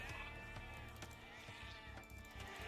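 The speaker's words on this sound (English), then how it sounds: "This sheep out here." A sheep in Age of Empires 2 bleats faintly, with a wavering cry beneath a dense, steady game soundscape.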